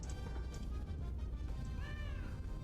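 A cat meows once in a video game, Iron Nest Heavy Turret Simulator: a short, clear, rising-and-falling call over a steady low hum of background game sound.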